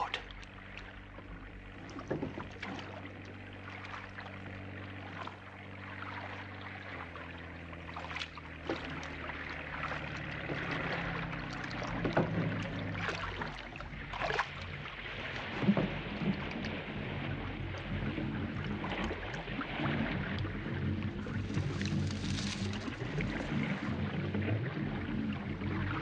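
A patrol boat engine rumbles steadily over the water, its drone shifting in tone as it backs up, with splashing and rain-like hiss throughout and brief faint voices.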